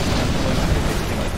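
A quad cannon firing in a combat video game, heard as a dense, continuous roar of heavy booms, loud and close throughout a brief stretch.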